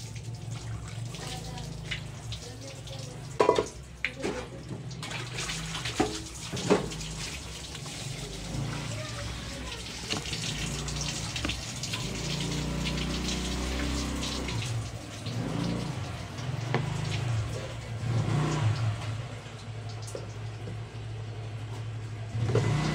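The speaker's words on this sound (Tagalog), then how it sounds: "Maghugas muna ako dito sa kawali." A frying pan being washed under a running tap at a kitchen sink, with a continuous splashing water stream and scattered clinks and scrubbing bumps throughout.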